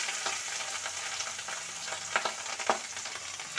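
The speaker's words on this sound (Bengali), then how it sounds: "চলো সাবধানে সাবধানে আগে মাছটা ভেজে নিই" Fish pieces fry in hot oil with a soft, continuous sizzle broken by a few sharp pops and spatters, quiet and with no voices.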